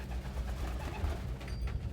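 Pigeons in a flock coo softly, low throaty calls rolling over a steady background hum, close by and fairly quiet.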